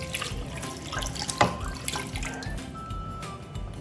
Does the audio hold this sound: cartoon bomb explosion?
no